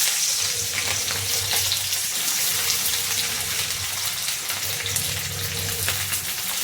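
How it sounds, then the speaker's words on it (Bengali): Onions hitting hot oil in a pan for masala paneer, a steady close sizzle and crackle of frying that carries on without pause. "বন্ধুরা তেলটা গরম হয়ে গেছে, পেঁয়াজ দিচ্ছি"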